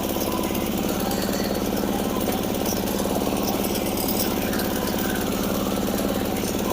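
A walk-behind tractor tills soil for a pumpkin field in first gear, its engine chugging steadily and loud throughout, with a dense mechanical rattle and no pauses.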